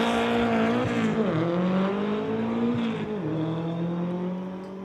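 A 1956 VW Beetle drag racing down the strip, its engine roaring loud and close with a steady droning pitch that dips as it shifts through the gears.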